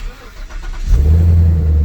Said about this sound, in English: Okay, so we're in the car, turn it on.